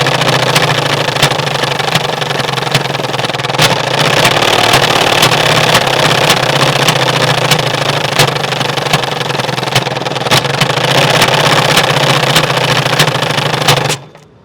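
A bicycle modified to mimic a Bullet motorbike engine gives a loud, continuous rapid putter with regular sharp ticks throughout, steady and close, stopping abruptly at the end.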